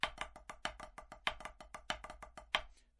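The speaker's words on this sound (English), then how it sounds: "the flam has been shifted to the second partial of the beat, creating an offset flammed mill" A snare drum plays an offset flammed mill rudiment, a quick, even run of crisp strokes with flam grace notes, about a dozen accented hits over a few seconds, close and clear.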